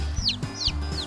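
Baby chicks in a backyard chirp and cluck in three quick, faint high calls spaced evenly apart, heard close with no talking over them.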